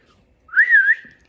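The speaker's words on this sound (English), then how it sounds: "when I whistle, it means to come" A single short rising-and-falling human whistle, clear and close, used as a recall cue for a 15-week-old Shiba puppy during training, set against near silence.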